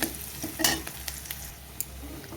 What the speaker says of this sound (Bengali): এবার একটু হালকা মতন ভেজে আদা রসুন আর লঙ্কাটাও দিয়ে দেবো